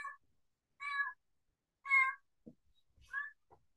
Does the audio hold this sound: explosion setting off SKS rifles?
no